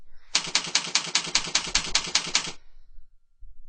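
Rapid, evenly paced keystrokes on a computer keyboard, entering a website name while setting up a new domain for WordPress hosting; close and crisp for about two seconds, then a soft thud or two.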